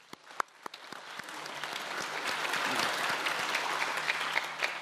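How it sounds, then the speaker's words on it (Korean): An audience claps together at a children's national assembly session, the applause starting with scattered claps and then swelling into steady, dense clapping that fills the room with no talk over it. "어린이 국회에 참석한 모두를 위해 다 같이 우리 박수 한번 쳐볼까요?"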